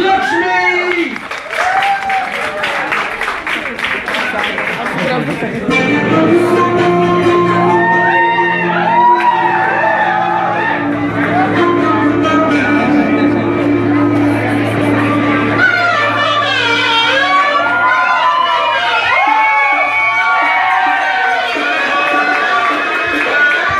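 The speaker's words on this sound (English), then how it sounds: "let's give them a huge round of applause for Indian dance group, Lakshmi!" An audience bursts into applause, cheers and whoops for the Indian dance group Lakshmi in Tbilisi, Georgia, a loud sustained ovation with shouting voices rising and falling over about twenty seconds.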